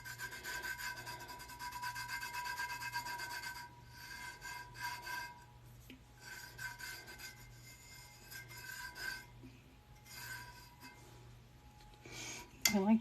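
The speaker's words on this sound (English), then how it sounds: "I do want to burnish it a little bit. Just to kind of push it into place." Vinyl cut from a template being burnished onto a tumbler: soft, steady rubbing and rasping strokes at close range, quiet, with a brief louder bump at the very end.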